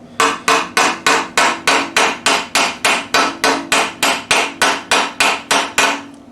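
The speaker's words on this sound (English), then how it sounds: "The next step is to planish it, just using a regular ball stake." A polished steel-faced hammer planishes a metal greave on a ball stake, striking about eighteen loud, crisp, ringing blows in a fast, even rhythm with no talk.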